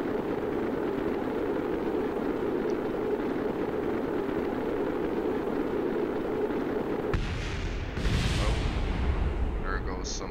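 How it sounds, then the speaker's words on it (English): Falling rocket debris explodes on impact in Kerbal Space Program, a muffled boom that breaks through a steady roaring engine rumble, followed by a few faint pops. "Oh, there goes some of our debris exploding. Probably hit the ground."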